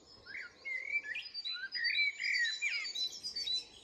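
Rich, full-toned song of a bird heard in a dawn chorus at a nature reserve, a run of fluting phrases that stop abruptly, fairly near over a quiet background.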